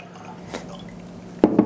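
Angel's Envy Triple Oak bourbon is poured into a glass, heard as a short splash and a few quick gurgling drips at close range after a near-silent stretch.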